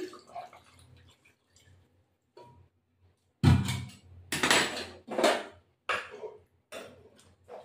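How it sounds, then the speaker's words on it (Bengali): Warm water poured into a cooking pot of mutton kosha with potatoes, a few splashy bursts and clinks against the metal pot, loud and close, with quieter kitchen noises before. "এবার এই জলটা দেবো, উষ্ণ গরম জল দিলাম।"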